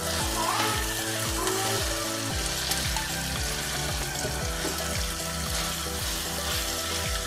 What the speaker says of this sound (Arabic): نضل عم نحرك شوي لحتى منضعف الغاز